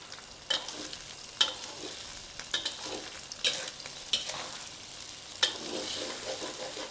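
Soft sizzling in a wok with repeated sharp scrapes of a spatula as egg is stir-fried for pad see ew with rice vermicelli and shrimp, close by and irregular.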